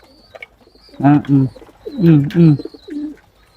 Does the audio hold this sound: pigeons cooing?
yes